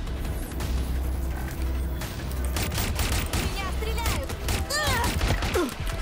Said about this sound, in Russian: Меня стреляют!